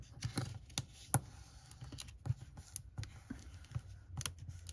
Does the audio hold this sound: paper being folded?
yes